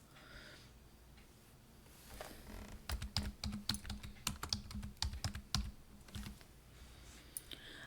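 Keys on a computer keyboard are typed in a quick burst of distinct clicks over a few seconds, close and clear against a quiet background with no talking.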